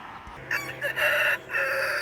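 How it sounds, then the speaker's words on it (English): A rooster crows once in a garden with apple cactus plants, a clear, fairly loud cock-a-doodle-doo in several rising and falling segments, heard alone. "literally right when I pressed the button, that rooster crowed"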